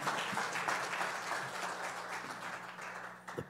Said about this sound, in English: Will you clap your hands and give God one more great praise before you find your seat?